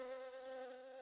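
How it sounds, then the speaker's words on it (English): Worker honeybees buzz in a steady, thin, continuous drone, faint and unbroken with no voices. "We are worker bees. We have come from that beehive."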